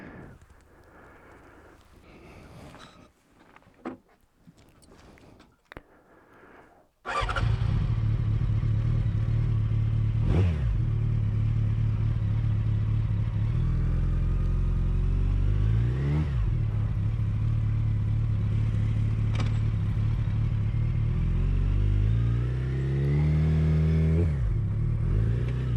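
A 2006 Yamaha FZ1 motorcycle starts after some quiet clatter, then its engine runs loud and close while riding, with several rising and falling revs as it shifts through gears.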